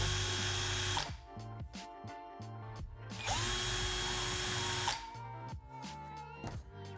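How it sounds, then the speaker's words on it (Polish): A power drill fitted with a screwdriver bit levels the bottoms of magnet holes drilled into Warhammer The Old World bases, whirring in several close bursts with short pauses between them. "posłużę się końcówkami do śrubokrętu, aby wyrównać dno otworów."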